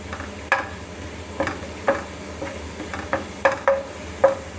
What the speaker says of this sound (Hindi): आप देख सकते हैं प्याज हमारा जो है अच्छे से फ्राई होना शुरू हो चुका है।